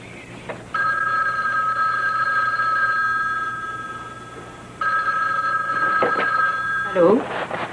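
A telephone rings in two long electronic bursts separated by a pause, the ringing steady and clear over a low background hum, with a brief voice near the end.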